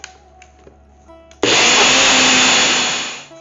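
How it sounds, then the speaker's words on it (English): A few faint clicks, then a grinder bursts into a loud, continuous whirring roar as it powders sugar to a very fine powder for laddus, running steadily for about two seconds before winding down. "I'm starting by powdering the sugar first."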